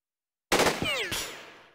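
Gunfire in the Jagged Alliance 2 game: a sudden loud burst of rapid shots, then a second crack, with a ringing echo trailing away after a short silence.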